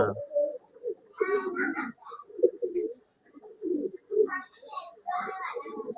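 Roshan breed pigeons, a male paired with a Sabja female, coo in low repeated throaty phrases close by, mixed with bursts of higher, brighter vocal sounds and brief pauses.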